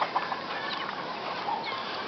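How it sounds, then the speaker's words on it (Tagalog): Young chicks in a brooder at a gamefowl farm give a busy chorus of high cheeping and peeping, continuous and fairly close, with no speech. "Ayan, dyan ako nagbaba ng sisiw ngayon."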